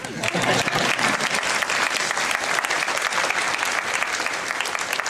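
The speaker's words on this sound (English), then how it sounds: "You can clap if you want." An audience at a Great Bear Rainforest event at Science World claps steadily and loudly, a dense sustained applause filling the whole stretch without talk.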